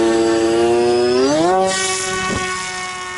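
Element Xe RC plane's electric motor during a hand launch, a loud whining tone that sweeps sharply upward in pitch as it spools up, then settles and fades slightly as the plane flies off.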